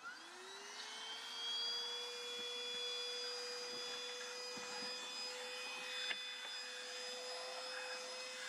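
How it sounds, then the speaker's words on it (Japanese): A handheld cordless vacuum cleaner runs steadily while cleaning sand and dust from a shoe cabinet inside a kei camper van, a close, even motor whine with scraping knocks of the nozzle against wood. "これをハンディクリーナーでちょっとお掃除してみたいと思います"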